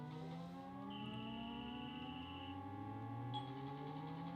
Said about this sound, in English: something sounds a little off with that siren sound. Very off key.